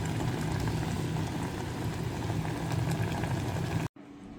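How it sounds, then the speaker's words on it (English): Curry bubbling in a pot on the stove, a steady close simmer of popping and hissing that carries on evenly and then cuts off abruptly near the end. "Here I'm making boiled curry."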